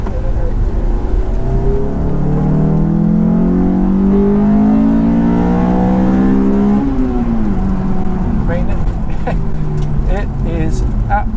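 Honda S2000 roadster with its 2.0-litre naturally aspirated i-VTEC engine climbing through the revs toward the red line, a loud rising engine note that peaks then falls away, with someone talking over it.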